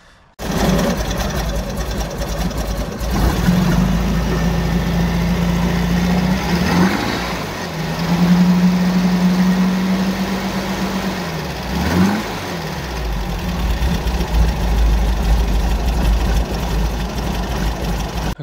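A car engine idles steadily after a cold start, a loud close continuous hum with a droning tone that dips and shifts twice, no talking over it.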